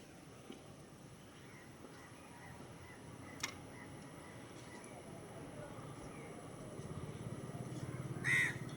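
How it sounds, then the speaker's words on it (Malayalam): Crows near a home, where they are being shooed away from rice, cawing in faint, scattered calls against a quiet background, with one louder call near the end. "കാക്കകളെ പോ, കാക്കകളെ."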